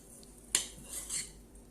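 A spoon clinks once sharply against a bowl while a spiced mixture with chilli is stirred, followed by a soft scraping swirl, close and brief, with no talk.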